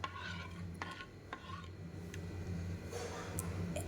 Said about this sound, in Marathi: हे आपले बॅटर प्रत्येक वेळेला आपल्याला, प्रत्येक डोसा करायच्या वेळेला आपल्याला असे हलवून घ्यायचे आहे